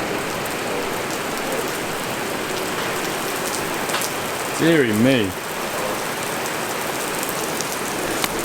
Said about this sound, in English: You've all seen rain before.